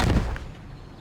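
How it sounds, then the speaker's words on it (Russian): A bomb goes off in a Family Guy video game, one loud, close blast with a short booming decay that fades within a second. "Бомба взрывается, Питер выпрыгивает в окно и, конечно же, пад"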